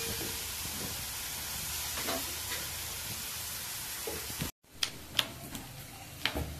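Onion and green chilli fry on a hot tava griddle for baingan bharta, a steady close hiss and sizzle, then after a brief cut a quieter sizzle broken by sharp scraping taps of a spatula; no talking.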